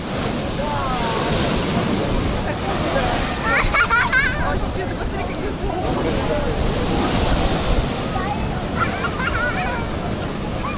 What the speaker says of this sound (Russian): Конечно, здесь очень сильный ветер. И очень сильно штормит, друзья. Вы только посмотрите, какие огромные волны идут.